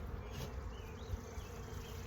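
A dense, steady hum of honeybees fills the air close by as a split hive is opened for inspection. No one speaks.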